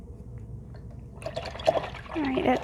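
A paintbrush swished and rinsed in a cup of water after acrylic painting, giving brief close liquid sloshing and trickling that grows over the last second.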